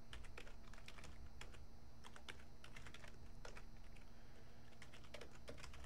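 Fingers type a Linux command on a computer keyboard, a quiet rapid run of close key clicks with irregular rhythm and short pauses, with no talking.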